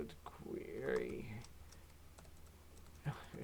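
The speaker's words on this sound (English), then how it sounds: "Typing is hard today." Keys clatter on a computer keyboard in a quiet room, a short flurry of clicks at the start and another brief burst near the end, faint beneath low background noise.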